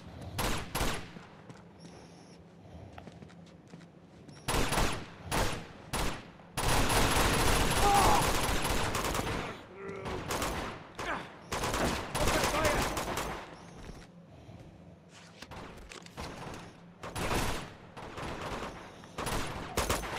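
Sniper rifle shots and bursts of gunfire in the video game Uncharted 2: sharp cracks and dense volleys come in irregular clusters, loud and close, with a sustained stretch of heavy fire and someone talking in places.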